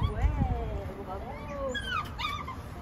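A young Malinois puppy whimpers and yips in thin, rising and falling whines, close by amid some handling noise and a voice speaking nearby.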